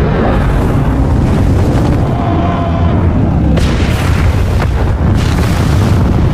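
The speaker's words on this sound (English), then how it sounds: "When the sandworm hits, visuals and sound explode together." A loud, sustained cinematic blast from the Dune 2 sandworm sound design, a dense roaring boom with rumbling low end and sharp bursts of impact layered through it, staying at full volume for the whole stretch with no talking.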